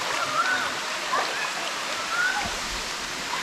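Water pours steadily down a waterfall in Thailand, a broad constant rushing wash heard up close, with a few faint bird-like chirps over it and no talk.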